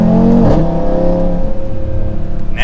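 An Audi RS3 fitted with an AWE exhaust, valve open in performance mode, revs and downshifts with a loud, close growl and a sharp engine blip, settling into a steady deep drone.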